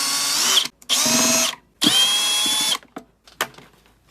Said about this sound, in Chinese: 先把底部的螺丝全部拆开。